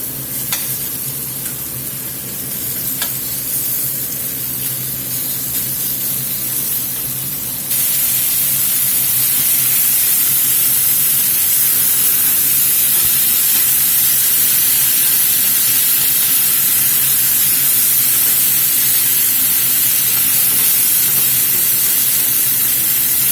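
Steak strips for fajitas sizzle loudly in a hot pan, a steady dense hiss that swells louder partway through as more meat goes in, with occasional stirring and no talk.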